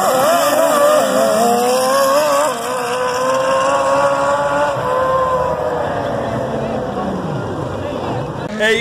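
A turbocharged Kawasaki KZ sand drag motorcycle screams loudly up close as it accelerates, its engine pitch climbing steadily across the pass before it briefly drops and rises again at the end.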